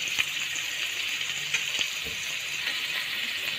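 Onion and spring onion whites sauté in a spoonful of hot oil, a steady close sizzle with faint stirring taps.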